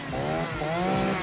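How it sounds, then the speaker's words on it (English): A chainsaw runs in a 1986 Texas Chainsaw Massacre 2 film scene, its engine revving with a buzzing, rising and falling whine, loud and close, with no voices. "we hear the A1 sound of a chainsaw, and the sound's so soothing"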